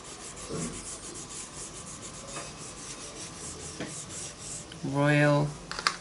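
A pastel stick being sharpened, with soft rasping rubs and scrapes close by, a few brief scratches in between, and a louder tonal squeak near the end, with no talking.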